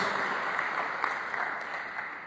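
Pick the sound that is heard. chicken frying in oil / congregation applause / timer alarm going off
congregation applause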